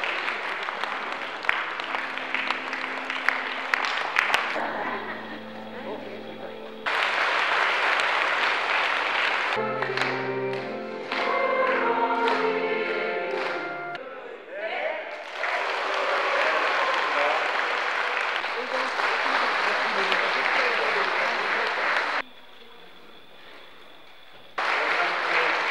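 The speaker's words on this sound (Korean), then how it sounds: "박수 부탁드립니다." A congregation at a church feast-day celebration for a priest applauds in long, steady bursts of clapping. The clapping briefly pauses and shifts, and music sounds faintly in between.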